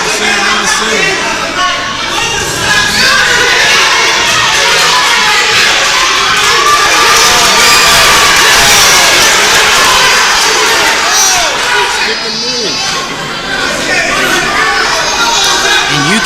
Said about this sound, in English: you can hear the crowd cheering for both fighters